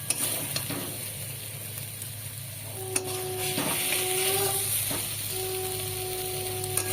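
Eggplant frying in hot oil in a pan for a neem-leaf and brinjal dish, giving a steady close sizzle throughout with a few faint clinks and tonal beeps partway through.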